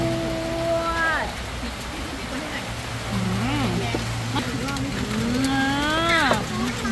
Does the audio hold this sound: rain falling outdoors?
yes